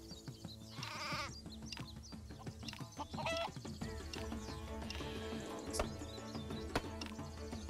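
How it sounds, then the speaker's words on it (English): Game sound effects from the video game Craft The World play, with animal cries such as chicken clucks and bleating-like calls mixed into a busy, continuous background of music and effects. "I guess kill that chicken"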